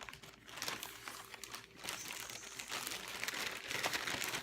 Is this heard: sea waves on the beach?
no